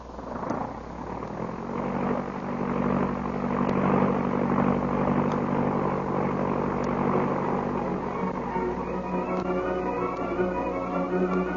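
A propeller plane's engine drones loudly and steadily, rising slightly in pitch as it revs for takeoff, with a sustained hum and changing harmonics toward the end.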